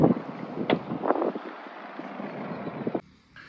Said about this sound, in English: the wind's kicking